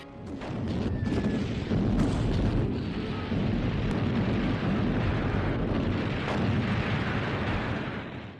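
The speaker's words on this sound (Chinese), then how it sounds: "数门大炮被抬上山，对南山的进攻也再次开始" Artillery cannon fire from several guns hauled up a mountainside for an assault on enemy positions, a dense, continuous roar of overlapping booms and rumbling blasts that holds loud and steady throughout.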